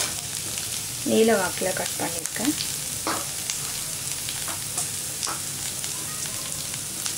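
Onions frying in oil in a pan for cauliflower poriyal, a steady close sizzle with some stirring scrapes; a person speaks briefly near the start over the frying.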